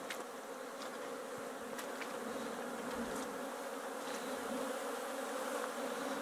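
Dense, steady buzzing of many honeybees flying around a hive in an apiary in February, a continuous humming drone with occasional individual bees zipping close by.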